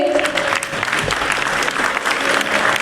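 An audience at a garba event in Rajkot applauds steadily, a dense wash of many hands clapping at once, loud and sustained throughout.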